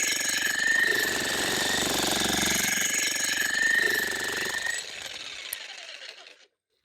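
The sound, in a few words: Vevor 1800 watt electric jackhammer running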